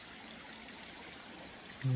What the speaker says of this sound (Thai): ได้ยินเสียงน้ำไหล